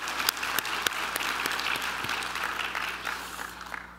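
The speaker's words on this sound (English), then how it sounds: "So give yourselves another round of applause for supporting them and making sacrifices on their behalf." Steady applause from a seated audience at a graduation convocation ceremony, many hands clapping together in a dense wash that holds for several seconds and then starts to thin out.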